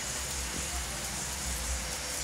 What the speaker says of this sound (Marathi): तर हा पाऊस चालू झालाय